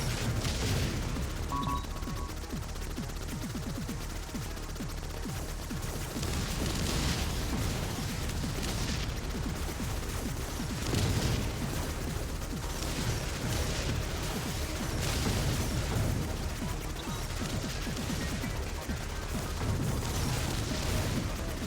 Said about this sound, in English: Pretty explosions.